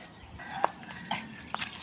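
A chicken lets out a few short, quiet clucks, spaced about half a second apart, over a faint outdoor background.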